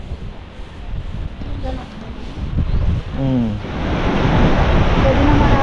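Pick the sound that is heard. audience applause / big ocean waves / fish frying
big ocean waves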